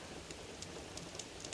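Steady rain falling in the game Horizon Forbidden West, a dense continuous hiss with faint scattered drop ticks, heard alone at low level.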